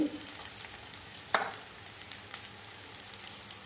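Spices being stirred into a potato curry in a pan, with a steady low sizzle and a few scraping stirs, one sharper scrape near the middle. No voices.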